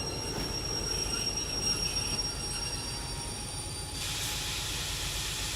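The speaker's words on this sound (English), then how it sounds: "And we're going to throw the train brake on now." Train brakes applied in the railway simulator Derail Valley, a steady rumble of rolling wagons with wheel squeal and high-pitched brake hiss, the hiss brightening near the end, no talk.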